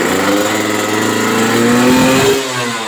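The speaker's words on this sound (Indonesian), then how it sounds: "Saya pengen dengar motor 300 juta suaranya kayak gimana." Honda NSR SP two-stroke motorcycle engine running close by, a loud, continuous revving that climbs in pitch and holds high before dropping back toward idle near the end.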